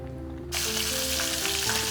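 Fish sizzles loudly as it fries in a pan in a home kitchen, a dense crackling hiss that bursts in suddenly and then holds steady, with no one speaking.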